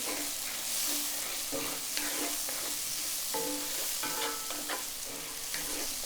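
A spoon scrapes and stirs through chicken and onions sizzling in a pan with raspberry preserves and balsamic, a steady frying hiss under irregular clinks and scrapes, close and clear.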